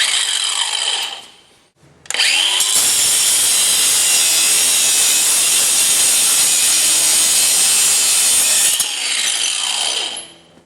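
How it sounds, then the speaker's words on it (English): Battery-powered angle grinder slicing through a padlock shackle: a loud, sustained high-pitched metal-cutting whine that starts abruptly, holds steady for several seconds, then winds down. "this is an easy way to get into a lot of locks, especially since we have the battery powered grinders now"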